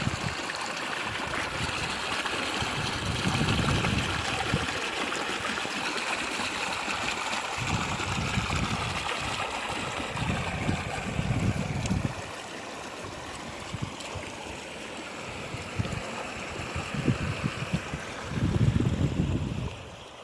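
A small creek swollen well past its usual trickle rushes in a steady broadband roar, with heavier surging bursts that come and go and no voices.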